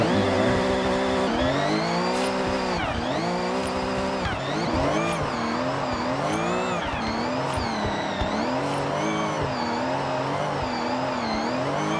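A BMW M1 in the Forza Horizon racing game drifts with its engine revving up and down in a continuous wavering howl while tires squeal, loud and sustained, with no talking.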